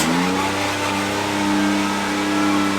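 A 2021 Can-Am Maverick X3 Max RS Turbo engine revs loud and close in a steady, continuous drone with a faint rise and fall in pitch, with no talking over it.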